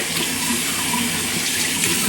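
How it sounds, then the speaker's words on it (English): Warm tap water runs steadily over a cloth as it is soaked through, a continuous close splashing hiss with no voices. "I'm basically just gonna thoroughly wet this in warm water"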